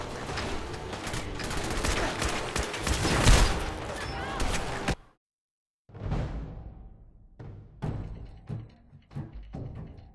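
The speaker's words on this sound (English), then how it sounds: "I keep accidentally shooting a robot." Gunfire in Fallout 4 aimed at a robot: dense, continuous bursts of shots for about five seconds, a short silence, then scattered single shots and short bursts, with a voice speaking partway through.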